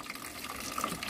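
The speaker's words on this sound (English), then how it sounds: "I'll give it a load of water." Water poured onto a dried-out container plant, a steady close splashing and trickling stream that runs without pause, with no voices.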